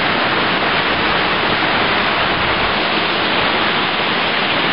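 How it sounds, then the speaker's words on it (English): Steady, loud rushing water noise, constant and unbroken throughout, from close up at the bottom of Bridal Veil Falls in Leura, Blue Mountains, Australia. "Now I'm at the bottom of the Bridal Veil Falls."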